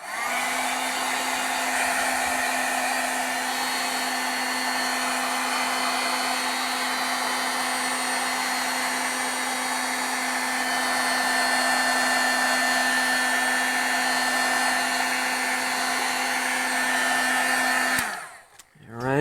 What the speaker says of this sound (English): So we're going to have to heat set this now.